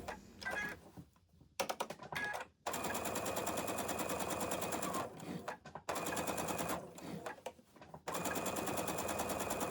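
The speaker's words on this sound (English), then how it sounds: "I'm just stitching right along the existing stitch line from the stocking" A sewing machine stitches store-bought cotton fabric onto a plain holiday stocking in rapid mechanical bursts, close and clear, stopping and starting several times with short pauses between runs.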